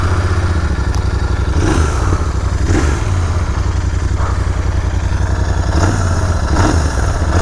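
A Royal Enfield 650 motorcycle, a GT 650 or Super Meteor 650 with loud exhaust, is started and runs with a steady, throaty, close-up engine drone, with a few brief revs rising above it.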